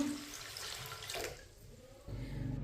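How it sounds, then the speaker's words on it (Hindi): Water splashes and runs steadily into a cooking pot of masoor dal, poured by the glassful, a continuous pouring rush that shifts in tone partway through, close and fairly loud. "अब इसमें पानी डालेंगे।"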